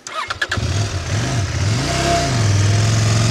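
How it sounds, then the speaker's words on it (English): Enduro motorcycle engine starts with a few quick cranks, then settles into a steady low idle and throttle blips as the bike rolls backwards downhill on engine braking, close and fairly loud. "And I use here the engine brake for the bike not to slide down."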